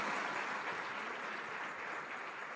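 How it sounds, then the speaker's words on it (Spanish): A church congregation gives a strong round of applause during a sermon, a continuous, even wash of many hands clapping that stays faint and distant throughout. "Demos un fuerte aplauso al Señor"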